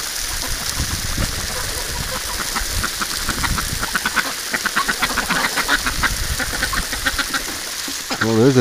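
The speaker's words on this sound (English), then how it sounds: "There's a dirty duck." Wintering ducks and geese quack in busy, overlapping bursts at bath time while water sprays steadily underneath, the quacks growing denser toward the middle.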